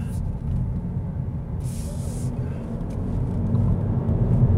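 2022 Honda Civic Sport driving through a roundabout, a steady low engine and road rumble from inside the cabin, rising slightly toward the end, with a brief hiss partway through.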